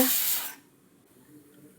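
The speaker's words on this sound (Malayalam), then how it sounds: "കുക്കറിൽ വിസിൽ 2 കേട്ടു." A pressure cooker of jackfruit seeds lets off a short, loud burst of hissing steam that fades within half a second into near quiet.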